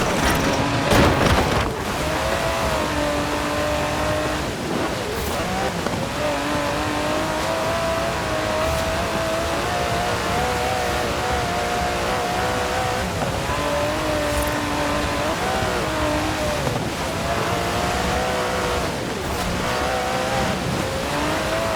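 An Aston Martin DB11 in the Forza Horizon 4 racing game, its engine droning and revving continuously with rising and falling pitch through gear changes, loud and close, with occasional tire squeal and a thump near the start.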